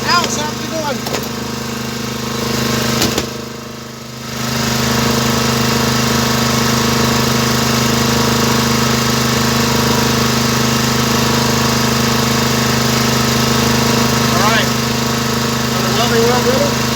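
The engine of a cheap welder generator runs steadily at high RPM, a loud constant drone with a brief dip partway through.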